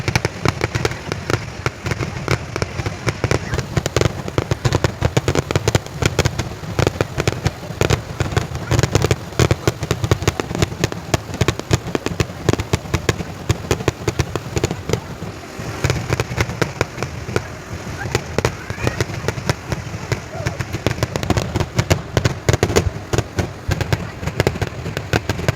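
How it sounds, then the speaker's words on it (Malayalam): Dense, continuous crackling fireworks and firecracker bursts at Pooram festival grounds, loud and sustained with rapid overlapping bangs throughout, a short lull near the middle, and faint crowd voices underneath. "അങ്ങനെ നമ്മൾ വെയിറ്റ് ചെയ്തിരുന്ന പടക്കം സ്റ്റാർട്ടായിട്ടുണ്ട് കേട്ടോ."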